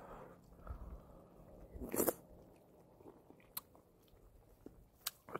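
Someone chews tofu and thinly sliced beef brisket during a mukbang meal. Quiet, close mouth sounds carry a brief louder crunch near the middle and a few sharp clicks afterward, with no talking.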